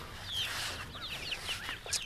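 Small chicks in a homemade wire-hoop outdoor pen give high, thin peeps and soft clucks, several birds calling in quick scattered bursts at close range.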